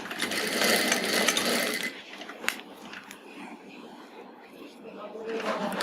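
A sewing machine runs a short burst of stitches on a palazzo trouser pocket, close and fairly loud for about two seconds, then falls quiet while a voice speaks softly nearby.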